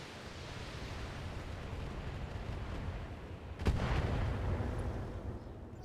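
Mech weapons firing in the BattleTech video game, a deep rumbling barrage under a sudden sharp blast partway through, followed by heavy, booming low-end rumble.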